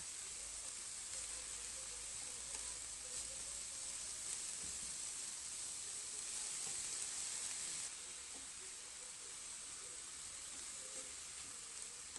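Zucchini and grated carrots with coriander cook under a lid in a pan, giving a steady, even sizzle with hiss that holds for the whole stretch, moderately close and with no one speaking.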